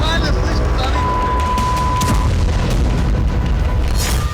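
Two back-to-back explosions during a Russian attack in Pokrovsk, Ukraine, picked up by a car dash cam as a loud, continuous booming roar with a sustained rumble and no clear break between blasts.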